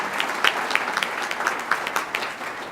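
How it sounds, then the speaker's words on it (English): An audience at a State of the County address applauds county staff, a moderately dense patter of claps with a few sharper individual hits standing out, steady and fairly close. "please give them a round of applause"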